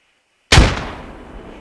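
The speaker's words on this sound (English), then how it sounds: "he's going to throw a nade" A grenade explodes in a first-person shooter match: one sudden, loud blast with a sharp attack, then a rumbling tail that fades over about a second.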